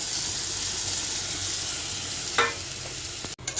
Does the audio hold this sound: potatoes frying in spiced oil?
yes